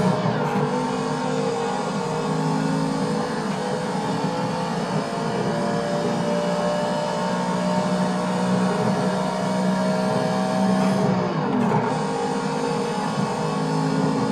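A race car's engine roars steadily while drifting around a track in the Assetto Corsa driving simulator. The note is loud and continuous, with a slight shift in pitch near the end.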